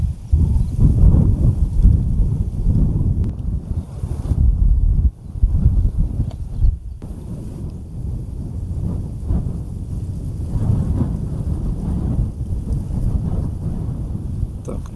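A strong storm blows across a lake during a float-fishing trip for crucian carp, with heavy, gusting wind buffeting the microphone and low rumbles rolling through, loud and continuous for the whole stretch.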